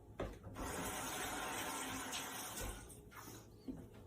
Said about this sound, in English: Let me rinse my hand real quick.